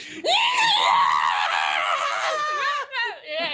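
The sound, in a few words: person imitating a character screaming maniacally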